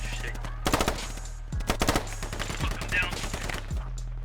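Rifle burst fire in the tactical shooter game SQUAD: several quick bursts of sharp, loud shots in clusters, separated by short gaps, over a steady low engine-like hum.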